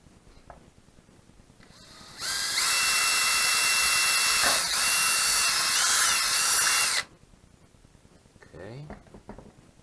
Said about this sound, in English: I'm gonna drill my hole right here.